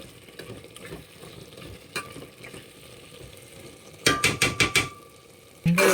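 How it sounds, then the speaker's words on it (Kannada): Mushrooms with mutton masala fry in a pan with a low continuous sizzle, then a quick burst of four or five loud metallic scrapes and knocks of the spoon against the pan near the end. "ಇದು ಇವಾಗ ಚೆನ್ನಾಗಿ ಫ್ರೈ ಆಗಿದೆ."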